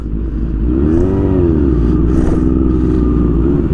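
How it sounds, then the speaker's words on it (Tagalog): Heavy road traffic with motorcycles in Calasiao, Pangasinan, a loud, close, continuous rumble of engines with rising and falling revs from passing bikes and cars, no speech. "Super duper traffic dito."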